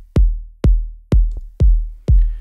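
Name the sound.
EQ-processed electronic kick drum, dub techno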